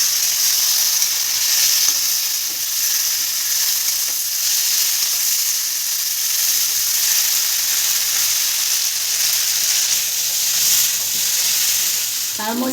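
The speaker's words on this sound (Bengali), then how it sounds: "হাফ চা চামচ হলুদ দিয়ে একটু সময় ভেজে নেব" Sweet potato sizzles steadily in a pan with turmeric and salt, a continuous bright frying hiss lasting throughout at an even level, with brief stirring scrapes near the end and no talking.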